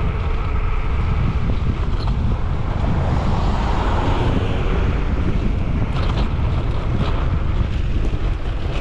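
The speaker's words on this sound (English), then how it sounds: "Plus a ton of wind, which I will also take." Strong wind buffets the microphone in a loud, continuous low roar while traveling west toward the coast, with no voices heard.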